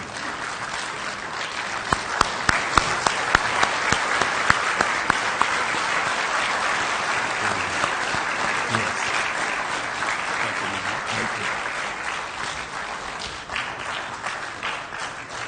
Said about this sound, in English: I want you to stand with me and give him a round of applause